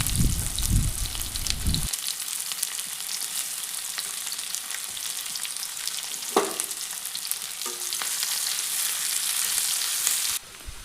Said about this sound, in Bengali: কড়াইয়ের মধ্যে সর্ষের তেল দিয়ে দিয়েছি তেলটি গরম হওয়ার পর এর মধ্যে পেঁয়াজ কুচি দিয়ে দিলাম